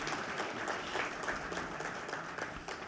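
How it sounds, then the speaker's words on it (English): An evening lecture audience applauds a sponsor, VM Group, with dense, steady clapping from many hands that fades slightly toward the end. "So let us have a round of applause for VM Group."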